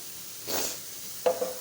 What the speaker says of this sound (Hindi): देखते हैं कैसा तड़का लगता है।